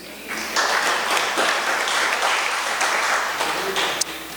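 A church congregation breaks into applause during a Spanish-language sermon, a steady wash of many hands clapping that swells and holds with little else audible.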